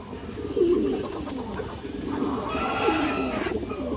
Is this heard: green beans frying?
no